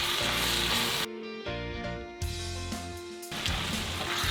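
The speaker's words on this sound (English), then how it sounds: "Now we just let it all simmer down. The smoked venison sausage, the garlic and onion." Smoked venison sausage, garlic and onion sizzle in a large pan, a steady close frying hiss that shifts in intensity a few times, with background music and no talk.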